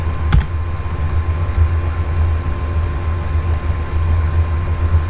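A computer keyboard clicks faintly at a desk with a few soft, scattered keystrokes over a steady low hum of room noise and no speech.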